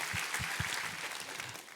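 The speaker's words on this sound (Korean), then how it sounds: "우리 하나님께 감사와 영광의 박수 올려드리겠습니다" A church congregation applauds at a Thanksgiving worship service, a steady wash of many hands clapping at moderate level with a few low thumps near the start.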